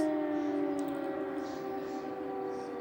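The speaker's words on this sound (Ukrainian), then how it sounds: "Це повітряна тривога, це Україна." Air raid siren wailing over a border town in Ukraine, a steady sustained tone droning at moderate distance, continuous and unbroken with faint background ambience and no talk.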